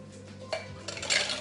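A glass being emptied of ice and rinsed, with a sharp clatter of cubes against the glass partway through, followed by a brighter rush of splashing water toward the end, close and moderately loud.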